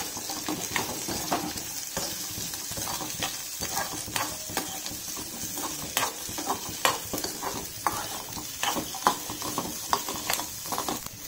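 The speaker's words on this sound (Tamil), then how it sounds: "சின்ன வெங்காயம் இது மாதிரி அரிஞ்சு வச்சுருக்கு, இந்த மாதிரி போட்டு" Small onions sauté in castor oil in a pan for a mutton kolambu, giving a steady close sizzle with frequent scraping stir strokes and clinks throughout, and no talk.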